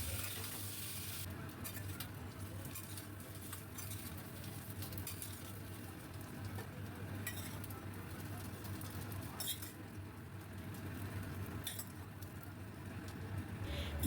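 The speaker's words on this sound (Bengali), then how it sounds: "অল্প একটু হলুদ দিয়ে আমি কচুগুলোকে ভাজবো।" Taro pieces fry with a little turmeric in a pan, giving a continuous soft sizzle with occasional stirring scrapes and light clinks throughout, faint and steady, with no talking.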